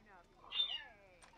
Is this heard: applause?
no